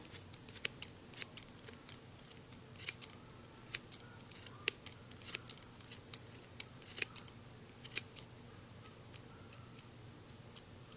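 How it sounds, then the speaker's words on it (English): Scissors snip loose yarn ends from a crochet beanie in a steady series of sharp, close, quiet clicks over a soft background hiss. "and then I just cut the loose ends off"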